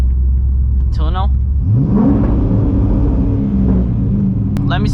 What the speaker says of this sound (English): Besides the fact that this burble sometimes gets too annoying